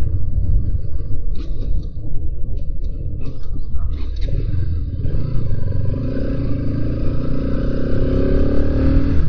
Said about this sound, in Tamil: எக்ஸாஸ்ட் நோட் சொல்லி அவனுங்க, அது நல்லா தார்மாராக இருக்குது.